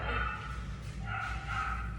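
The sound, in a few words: dogs barking in the background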